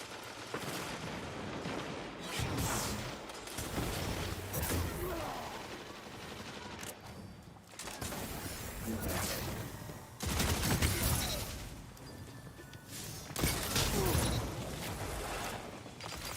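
Rapid bursts of video game gunfire rattle through most of the stretch, dense volleys with brief lulls, loud and close in a busy mix.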